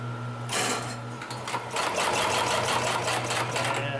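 A Consew 733R-5 heavy duty lockstitch sewing machine runs in steady bursts, its rapid needle rhythm speeding up and continuing close and loud over a low motor hum.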